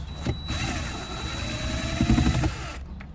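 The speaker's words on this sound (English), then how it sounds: "Next screw I'm gonna remove with my drill" A power drill whirs steadily for about two and a half seconds at close range, removing a screw from a 2020-2025 Subaru Outback during an auto stop eliminator install, straining slightly near the end before stopping.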